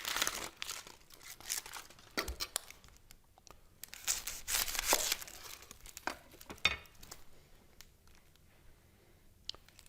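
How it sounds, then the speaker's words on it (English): Dry papery skin is peeled off a sweet onion in short bursts of crinkling and tearing, close and fairly quiet, with brief pauses between pulls and no speech. "Now when I peel onions, I don't try to save every little bit of onion."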